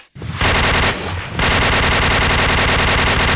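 A Pindad SS2 V5 rifle fires in the Point Blank video game as loud, dense automatic bursts, with a brief dip around the first second and then one continuous rapid stream of shots.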